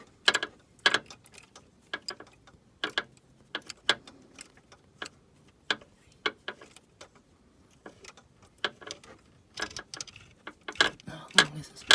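A socket ratchet winds a bolt out of the water pump on an R56 Mini Cooper S, giving steady close clicks at an irregular rhythm over twelve seconds, loud in some spots and soft in others.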